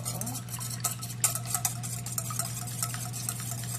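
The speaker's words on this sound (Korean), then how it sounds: "계란을 깨가지고 풀어주세요." Cracked eggs are beaten in a bowl for coating kimbap before frying, making quick, irregular clicks and taps of a utensil against the bowl over a steady low background hum.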